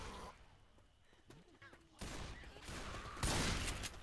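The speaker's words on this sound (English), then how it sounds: "Why do you keep shooting? Stop it." Gunfire in the video game Left 4 Dead 2, The Parish level: quiet game ambience, then bursts of shots in sudden loud clusters near the end, dense and crackling, with no talk over them.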